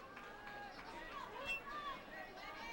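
Fans murmur and chatter steadily at a 2006 NAIA World Series college baseball game between UBC and LCU, a broad, continuous crowd hubbub with a brief swell midway.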